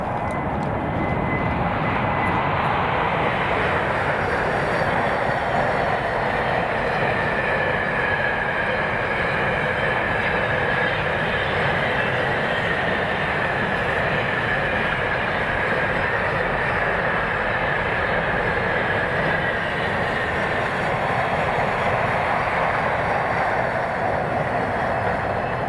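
Freight train 4S43 hauled by Class 88 electro-diesel locomotive 88007 passing in Scotland, a steady loud rumble and whine sustained throughout with a faint tonal drone, no voices.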